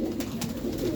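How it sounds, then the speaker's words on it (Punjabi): Pigeons in a breeding loft coo close by, with soft throaty calls repeating over a brief moment. "ਇਹ ਮਾਸ਼ਾਅੱਲਾ ਸਾਰੇ ਬਰੀਡ ਕਬੂਤਰ ਚੈੱਕ ਕਰੋ ਮਾਸ਼ਾਅੱਲਾ"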